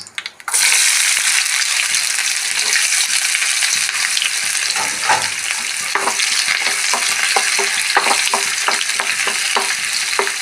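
Green chilies, cloves and chopped onion frying in a spoonful of coconut oil, a loud, continuous close sizzle with stirring scrapes and clicks from about the midpoint onward, and no voices.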